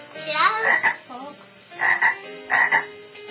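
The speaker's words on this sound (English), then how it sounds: "Frog." Frog croaks come in several short, loud, raspy bursts with gaps between them. No one talks over them.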